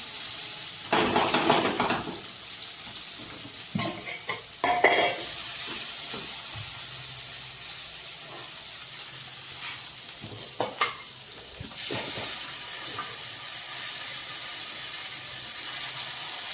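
Spices and saag greens frying in a pan, a loud continuous sizzle with bursts of spatter and occasional stirring scrapes, no voice present.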